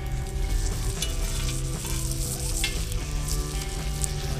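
Bacon sizzling and frying on a hot metal plate set over a campfire for hamburgers, a steady dense crackle with scattered sharper pops running continuously and close, with no talk.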